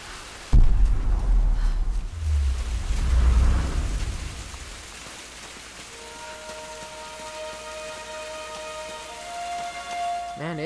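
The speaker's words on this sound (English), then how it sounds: "It is still raining" Rain and thunder in the Tomb Raider video game: deep rumbling thunder and heavy rain surge loudly at first, then ease into a steady patter while a sustained musical drone rises in the background.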